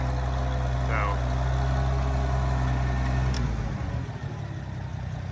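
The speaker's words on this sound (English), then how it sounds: "I love the sound of these 6-cylinder Olivers. They're just so smooth." An Oliver 770 six-cylinder tractor fitted with a Farmhand loader idles smoothly and steadily up close, its low even drone holding for several seconds before dropping off abruptly near the end.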